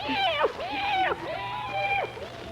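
A cat meows several times in a row, each meow a clear rising-and-falling call, with a faint background hum. It is outdoors on a dark night with no moon.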